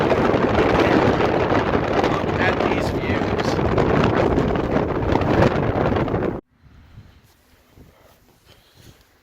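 Strong wind roars across an Oregon mountain summit near Mirror Lake, buffeting the microphone loudly and steadily for several seconds before cutting off abruptly; a voice speaks briefly under the gusts.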